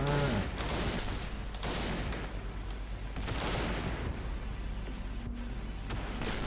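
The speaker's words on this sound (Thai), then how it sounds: "เฮ้ยใครยิงวะ" Rapid gunfire bursts from the Point Blank shooter game in sniper mode, repeated volleys and booming shots crowding one another across the whole stretch at steady, loud levels.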